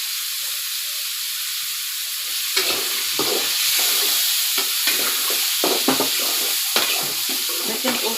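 Potatoes and lentils fry with a little turmeric, giving a steady broadband sizzle that jumps to a louder, more crackling hiss partway through, with intermittent stirring scrapes close by and no talk.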